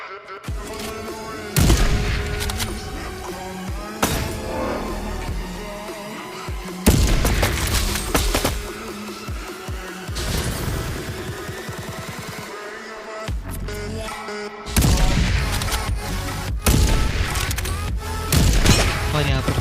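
Sniper rifle fire in the video game Farlight 84, several heavy booming shots spaced a few seconds apart over continuous game noise and background sounds.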